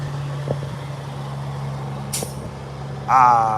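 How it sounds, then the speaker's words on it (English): A big truck parked nearby lets out a short, sharp air brake hiss near the end, following a steady low engine idle with a few faint clunks. "He just did that piston noise."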